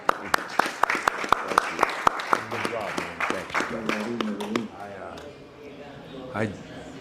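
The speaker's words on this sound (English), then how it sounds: "Marty, let's give Marty a round of applause, will you?" Zoom call participants applaud Marty with a run of sharp, separate claps over a few seconds, mixed with cheering voices, before talk takes over and the clapping fades.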